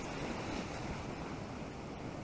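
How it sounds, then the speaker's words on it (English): Surf washing onto a rocky shoreline on the Llyn Peninsula as the tide comes in at dusk, a steady broadband roar of breaking waves with wind buffeting the microphone, continuous and close. "the tide's coming in quite fast"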